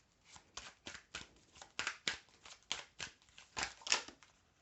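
Oracle cards are shuffled in a quiet room, giving a series of about a dozen crisp, papery riffles and slaps in a steady rhythm, close and distinct, with cards occasionally slipping out.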